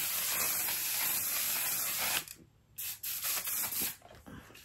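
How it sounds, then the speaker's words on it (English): Makeup setting spray mists out in a few bursts, a loud close hiss that fills the first two seconds, breaks off, then returns in shorter puffs, with no talk. "then do my whole makeup and use this spray"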